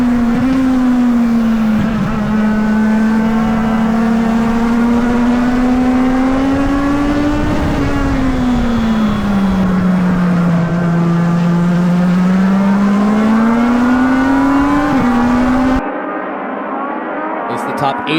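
Legend race cars run nose to tail around the Charlotte Roval, a loud, steady engine drone whose pitch rises and falls with the laps before it cuts off abruptly near the end.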